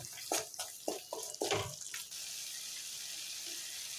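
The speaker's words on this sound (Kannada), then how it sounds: "ಮಿಕ್ಸಿ ಒಳಗನ ಸ್ವಲ್ಪ ನೀರು ಹಾಕ್ಕೊಂಡು ಮಸಾಲೆ ನೀರನ್ನ ಇದಕ್ಕೆ ಹಾಕಾಕತ್ತೀನಿ" Water swished in a mixer jar and poured into garlic masala rasam makes a few quick splashes and sloshes up close, then settles into a steady faint trickle.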